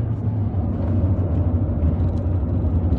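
A small, non-turbo Lada Granta Sport engine drones at low pitch and builds as the throttle opens. The rumble is steady and fairly loud, heard without speech.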